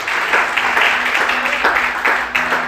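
Steady applause from a church congregation, a broad wash of clapping that swells and pulses in waves for a few seconds, with no talking over it.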